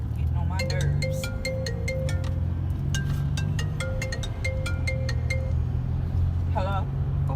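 A phone rings with an incoming call inside a moving car, a repeating electronic tone with clinking accents played in two rounds over steady road and engine rumble, with a voice speaking underneath.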